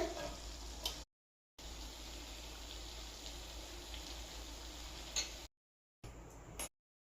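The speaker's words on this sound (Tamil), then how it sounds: "ஃப்ரை பண்ணிக்கோங்க. அப்பதான் நல்லா கிறிஸ்பியா கிடைக்கும் சிக்கனு." Chicken pieces sizzle and crackle in a hot pan as they fry crisp for a garlic butter chicken, a steady close frying hiss with brief gaps of silence.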